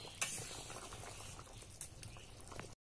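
Desi chicken curry simmering in a pot over a clay stove gives off a steady, fairly quiet bubbling and popping, with small bursts rising through the continuous boil.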